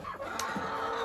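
Chickens and a rooster clucking in an enclosed coop, a brief burst of close fowl calls over a steady background hum.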